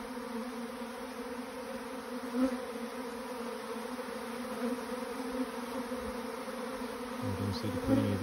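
Swarm of honey bees, mostly females, clustered around a new hive, a dense continuous drone of buzzing close by, with a few individual bees flying past near the listener.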